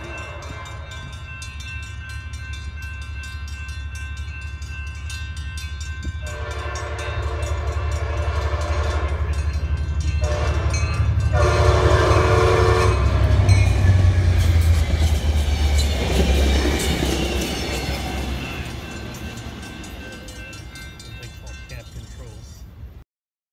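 A westbound Trinity Railway Express commuter train passes in Fort Worth, Texas, its rumble swelling to a loud peak midway and then fading, with long horn blasts sounding over the approach and clattering wheels on the rails.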